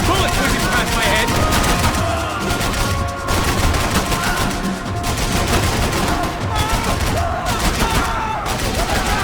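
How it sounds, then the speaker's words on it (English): Gunfire and bullets whizzing past during a firefight in a swamp in Max Payne 3: loud, dense, near-continuous automatic fire with sharp cracks and brief lulls, under a steady wash of noise, with shouted voices mixed in. "Bullets whizzing past my head!"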